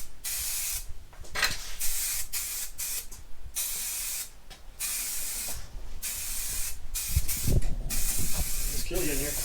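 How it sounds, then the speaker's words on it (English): Aerosol primer spray can hissing onto a diesel oil pan in a workshop, delivered in repeated bursts of varying length with short gaps, close and fairly loud, with people talking briefly between sprays. "This can ain't too bad. Spray's better than the other one."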